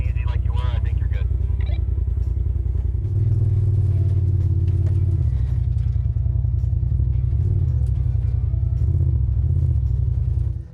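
A RZR side-by-side labors up a steep mountainside off trail, its engine a steady, loud, low rumble that surges midway, with people talking over it.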